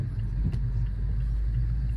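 A Mazda car pulls slowly away from a complete stop and turns on winter roads, its engine a low, steady rumble heard from inside the cabin with no sharp revving.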